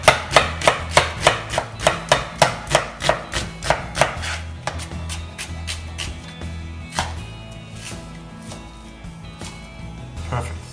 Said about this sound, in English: We're gonna slice the onion very, very thin.